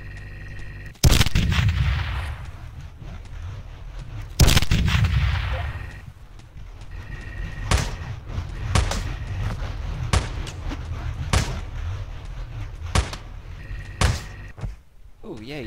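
Bombs explode in the video game Teleglitch: two heavy, booming blasts early on, followed by a series of sharp, spaced bangs, loud and close, with talk in between.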